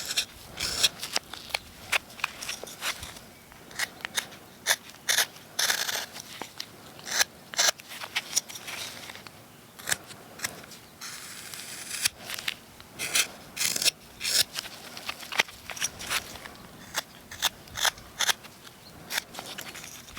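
A knife carves a wooden leprechaun from a 1.5-inch block, heard close up as a steady run of short scraping, rasping strokes in irregular bursts with no talking.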